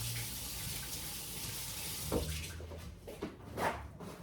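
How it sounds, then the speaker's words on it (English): Tap water running in a sink during hand washing in a kitchen: a faint, steady stream that becomes splashier as the hands move under it. No one speaks. "Let me just wash my hands."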